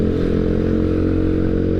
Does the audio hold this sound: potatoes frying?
no